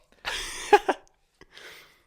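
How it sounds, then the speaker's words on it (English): A single harsh cough bursts out close by, followed by a shorter rough exhalation, with quiet pauses around it. "Still got a cough."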